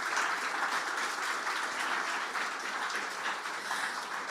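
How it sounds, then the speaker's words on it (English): An audience applauds a startup team, Carbon Lock, at an investment summit. The clapping is dense and steady, moderately loud, and runs throughout without a break. "big hand of applause for Carbon Lock"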